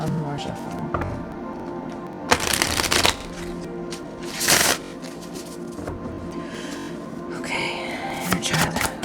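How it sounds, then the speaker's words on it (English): Tarot cards being shuffled by hand in a pick-a-card reading, heard as a few bursts of crisp riffling and slapping, close and moderately loud, with quieter handling noise between bursts. "Feel one more shuffle."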